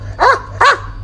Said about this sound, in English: Dogs are so noisy